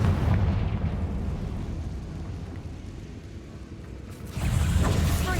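A Confringo fire spell bursting in the Hogwarts Legacy video game, a heavy rumbling explosion that decays over a few seconds before a second loud boom hits near the end, with no talking.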